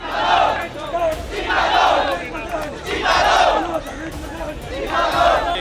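Protest crowd in a Delhi street at Connaught Place, shouting slogans in loud rhythmic waves that rise and fall about every two seconds, near and sustained, with no clear single voice above the mass.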